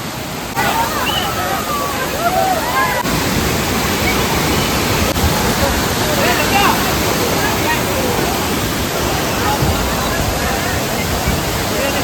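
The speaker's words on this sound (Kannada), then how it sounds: "ಫಾಲ್ಸ್ ನೋಡ್ಕೊಂಡ್ ಬಂದ್ವಿ ನೋಡ್ರಿ ಫಾಲ್ಸ್ ಮಾತ್ರ ಮಸ್ತ್" A steady, loud roar of Amboli waterfall, about 300 feet high, fills the scene continuously, broad and rushing, with faint voices occasionally audible beneath it.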